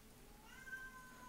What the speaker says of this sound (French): Oh, ce chat!